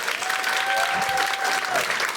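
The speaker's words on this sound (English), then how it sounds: "A round of applause for the Romanian siblings." Loud, dense applause from a comedy show audience in New York for the Romanian siblings, a continuous wash of clapping throughout, with a brief sustained tone running through the middle.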